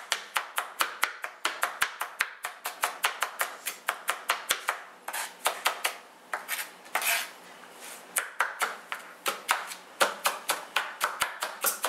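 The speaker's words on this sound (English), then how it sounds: "So I cut about 3 thin slices for what I have" Knife slicing thin rounds of onion on a cutting board for cabbage salad, a quick run of sharp, close chopping taps in a steady rhythm with short pauses, no talking.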